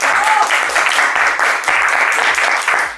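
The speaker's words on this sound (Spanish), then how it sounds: "Un aplauso" A studio group applauds a guest, a close, loud, even stretch of clapping from several people that continues without pause.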